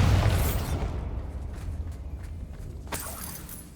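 A Bombarda blasting spell goes off in Hogwarts Legacy as a loud, low booming explosion right at the start. The rumble slowly fades, with a sharper crack near the end.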